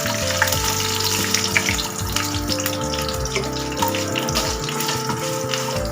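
Horse gram sundal roasts in a pan with curry leaves and dried red chillies, giving a steady, close sizzle and crackle that runs without a break from start to finish, with no voices.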